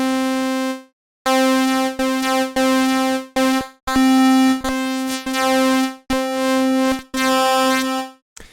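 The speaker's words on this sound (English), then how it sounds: "So ring modulation sounds like this." Ring-modulated tone from a u-he Diva software synthesizer, a bright metallic buzzing note played in a series of short, choppy repeated bursts with brief gaps, steady pitch and loud, with no voice over it.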